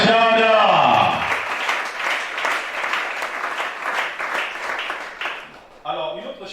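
A church congregation breaks into sustained applause to acclaim God, a dense close roar of many clapping hands lasting several seconds, with a sung or shouted voice before it and a voice again near the end.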